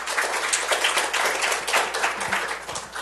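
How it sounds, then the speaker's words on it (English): A live audience at a social media summit panel gives a short round of applause, dense steady clapping from many hands throughout, fairly loud and close with no speech over it. "A little round of applause."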